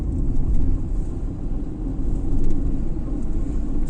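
Tata Altroz engine held at 3000 RPM in second gear, heard from the cabin as a steady, muffled low drone and road rumble with no talking.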